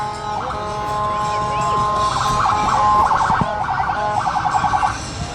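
A fire truck siren wails and warbles over a busy outdoor parade crowd in Thunder Bay in the evening, the tone rising and pulsing in quick bursts, moderately near and growing louder.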